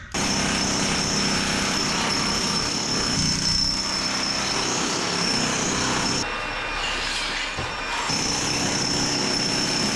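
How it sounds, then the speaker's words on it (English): Loud, continuous mechanical hammering of a jackhammer breaking tile in a flood-damaged home, steady and close, with brief shifts in tone partway through and no talking. "Dad's got to start jackhammering, Zebby."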